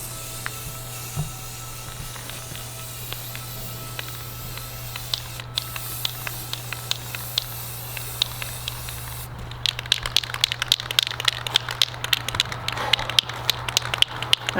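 Spray paint going on as another coat across the top of lounge furniture, a steady hiss with intermittent bursts that grows louder and busier near the end, over a constant low hum.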